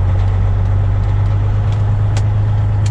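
Cat C15 twin-turbo diesel in a semi truck, a steady low drone running continuously and fairly loud, with road and cab noise layered above it and no talking.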